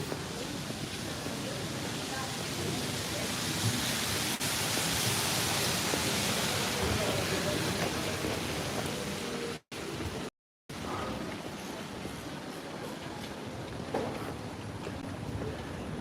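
Heavy rain storm in London, a dense, loud, steady wash of rain and wind noise that continues throughout, briefly cutting out twice near the end.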